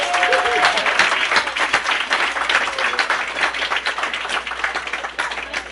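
Loud, dense applause from an audience at a 2015 awards dinner, a steady roar of many hands clapping close by that runs unbroken throughout.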